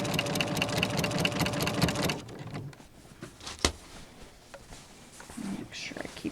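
A sewing machine stitches fabric for an advent calendar, a fast, even mechanical whir for about two seconds that then stops, followed by quiet handling noises and soft talk.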